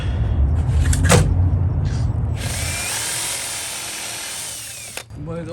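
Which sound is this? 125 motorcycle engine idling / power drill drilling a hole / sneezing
power drill drilling a hole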